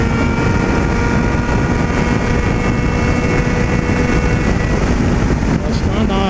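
Yamaha XJ6 motorcycle engine held at high revs, a loud, continuous roar with buzzing harmonics and wind rush, ridden on a road.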